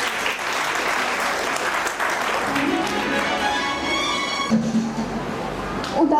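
An audience at an academic awards event applauding, a dense sustained clapping from a crowd that carries on for several seconds, with some voices faintly mixed in.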